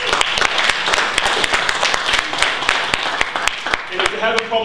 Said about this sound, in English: we're clapping Jesus